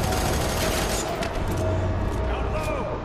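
Dense, continuous gunfire from the shooter game F.E.A.R. 3 rattles throughout, a sustained fusillade of bullets mixed with game noise while people talk over it.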